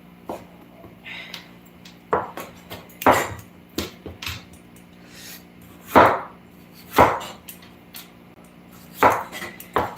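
A knife chops chile peppers on a cutting board in a home kitchen, about a dozen sharp, irregular thuds of varying force, close and clear over a faint background hum, with no talking.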